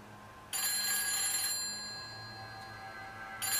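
A telephone rings in the horror video game Silent Hill 4: The Room, a bright electronic trill that starts abruptly, holds loud for about a second, fades and then starts again near the end, with no talk.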